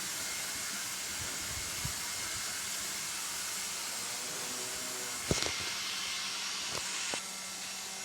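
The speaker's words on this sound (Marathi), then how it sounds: "चपातीसाठी तवा ठेवला आहे कुकर लावला आहे" A pressure cooker on a kitchen stove gives off a continuous airy hiss at a fairly quiet, even level, with a few faint clicks and clatters near the end.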